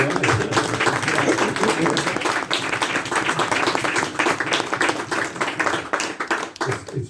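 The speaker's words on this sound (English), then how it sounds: "A big round of applause for Brian." At the opening of an annual life drawing exhibition at the United Arts Club in Dublin, an audience claps steadily and warmly throughout, with voices mixed in under the applause.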